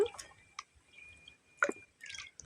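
Water is poured over a child during a bath, heard as a few soft, scattered splashes and drips, quiet and close.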